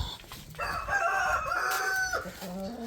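A rooster crows one clear, loud, drawn-out call close by among a flock of hens, with faint clucking around it.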